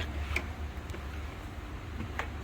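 Faint, sparse knocking taps from a loose piston at irregular intervals over a steady low engine rumble in a Ford Ranger T6, no talking.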